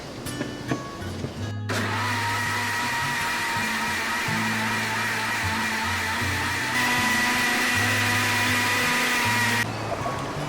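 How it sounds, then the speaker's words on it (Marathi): A kitchen blender whirs continuously for about eight seconds, mixing besan batter for khaman dhokla after extra gram flour is added, its loud motor hum steady with slight shifts in pitch before cutting off. "परत एकदा छान ब्लेंड करून घेऊया"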